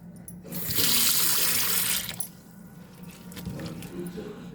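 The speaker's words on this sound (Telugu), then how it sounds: "ఇలా నీళ్ళలో కడగాలి నీట్గా." Hot water runs at a sink while dried prawns are washed in it, a loud gushing flow for about a second and a half, then quieter splashing and handling, with a voice faintly present.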